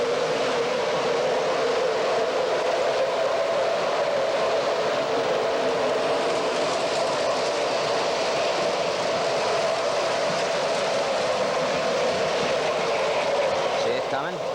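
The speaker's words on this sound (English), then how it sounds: "Now we'll start up another freight train." A model Burlington Northern Santa Fe freight train runs steadily, giving off a continuous, even rumble and whir that holds at the same level without break.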